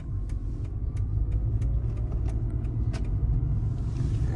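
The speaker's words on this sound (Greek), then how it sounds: "Το Mercedes τόσο πολύ θέλει να φύγει που δεν πατάω γκάζι και φεύγει από μόνο του" Steady low rumble of a Mercedes W211 car idling forward and creeping off on its own, close and continuous, with a few faint clicks and jingles on top and no talk.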